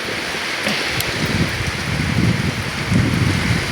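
Light rain patters steadily on a surface nearby, a soft continuous hiss with a few sharper drops.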